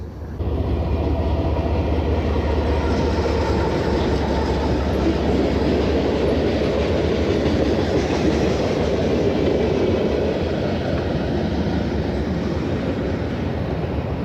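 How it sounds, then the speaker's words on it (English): A short train rolling over a bridge, a loud steady rumble with rhythmic clatter of wheels on the rails that builds quickly and holds close for most of the stretch, with no talking. "Here comes our train. Not much of a train."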